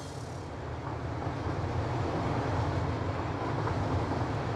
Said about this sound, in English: Well, I just figured I could hear the train coming.